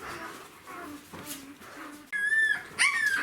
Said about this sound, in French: Mademoiselle Pepper s'est gentiment écrasée sur un petit chiot.